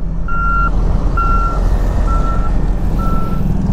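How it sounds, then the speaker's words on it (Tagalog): Four evenly spaced reversing beeps sound over a loud, steady diesel rumble from a large bulldozer working among trucks at Lake Mapanuepe in San Marcelino, Zambales. "Ang laki ng bulldozer."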